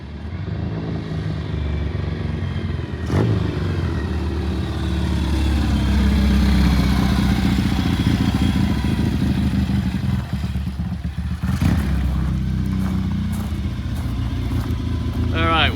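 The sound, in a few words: gold motorcycle running under power on gasoline during test ride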